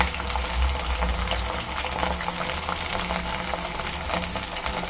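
Paneer pieces fry in oil on medium heat, giving a steady close sizzle and hiss with faint bubbling that holds evenly throughout.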